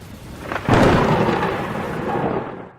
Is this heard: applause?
no